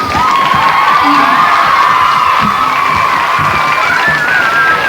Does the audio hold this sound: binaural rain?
no